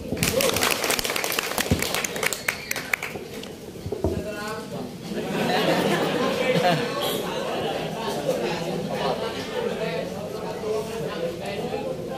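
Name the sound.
applause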